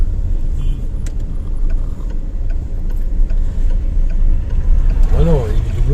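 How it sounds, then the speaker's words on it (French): Street sweeper trucks rumble past on a town street with a continuous low engine roar and some ticking clatter, close and fairly loud, while people chat over it. "c'est les camions balais"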